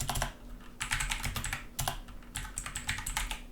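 Fingers tapping on a computer keyboard while writing a program, in quick bursts of close, crisp clicks separated by short pauses, with a low hum underneath and no voices.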